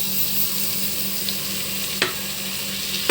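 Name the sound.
masala spices frying with tomatoes for kadala curry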